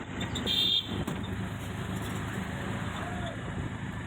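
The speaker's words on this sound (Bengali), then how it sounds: "তো আমি অটোতে উঠে পড়েছি।" An auto rickshaw rides along a road toward BT Road after rain, its steady engine drone and road rumble continuous throughout, with a brief louder rattle near the start.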